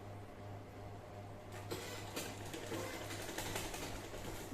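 Hook-type sewing machine stitching fabric, a steady quiet mechanical whir with a low hum, joined by a faster rhythmic clicking partway through, heard alone at close range.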